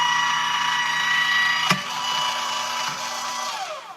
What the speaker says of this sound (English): I'm using the Tim Holtz Vagabond by Sizzix. It's electric, so it's going to make some noise.